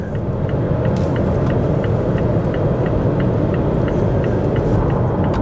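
A Mazda CX-5 driving along on a road, a steady, loud low rumble of engine and road noise filling the cabin without interruption, no voices.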